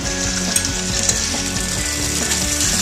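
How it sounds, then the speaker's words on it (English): Onions, tomatoes and chicken sizzle loudly in a hot pan, a steady dense crackle with clanks and scrapes of stirring running throughout, close and continuous. "So just give it a little bit of a stir"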